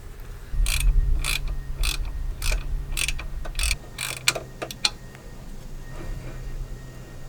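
Close ratchet clicking comes in quick bursts as exhaust bolts are tightened on an F30 BMW 340i during a Remus axle-back install, followed by a few sharp ticks and then quieter mechanical handling.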